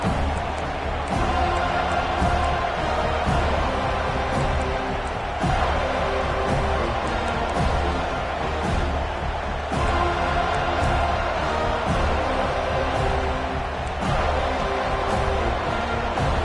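A dense stadium crowd roars steadily throughout a college football game, loud and continuous, with a broadcast commentator faintly audible beneath the noise.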